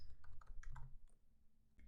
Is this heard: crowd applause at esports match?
no